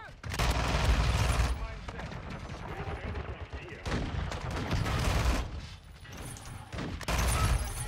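SMG fire in Call of Duty MW2, dense rapid bursts of gunshots with scattered firing from others, continuous and loud, with a player talking over parts of it.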